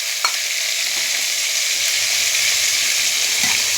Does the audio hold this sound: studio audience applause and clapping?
no